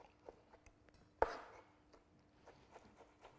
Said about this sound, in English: So just thinly slice all this shiitake mushroom.